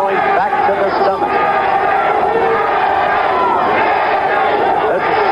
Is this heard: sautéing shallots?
no